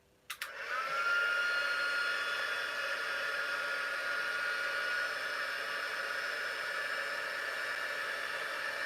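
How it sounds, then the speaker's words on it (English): A craft heat tool for embossing switches on with a click and then blows as a steady, even whoosh with a faint whine, holding at a constant level to the end. "I'm heating up my heat tool"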